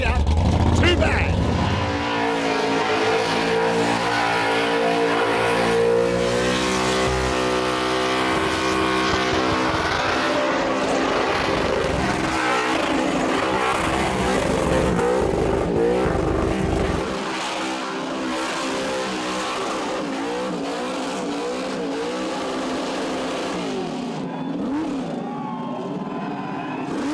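Cars at an Australian burnout competition roar with loud, sustained engine revving and tyre-screeching burnouts close by, the pitch rising and wavering before easing to a lower drone near the end, with voices talking over it.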